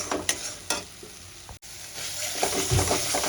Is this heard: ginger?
yes